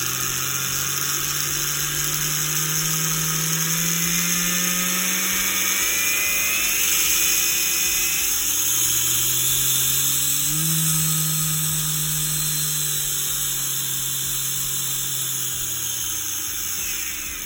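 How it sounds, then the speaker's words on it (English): The electric motor of a Scalextric F1 Tyrrell slot car whines at high speed with its rear wheel lifted off the surface, a loud, close, continuous tone that climbs and dips as the voltage changes, alone without talk. "So I'm just going to lift the rear wheel slightly and then increase the volts."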